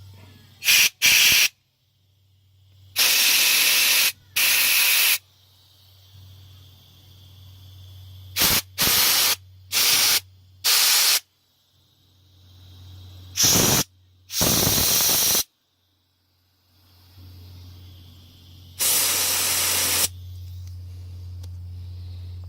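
Short, loud bursts of compressed air hiss through the passages of a genuine Mikuni carburetor, a dozen or so blasts of irregular length with gaps between, over a low steady hum.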